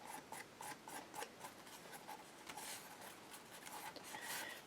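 Dry strings are rubbed off a craft page by hand, a quiet scratchy rasping in short repeated strokes, close and faint.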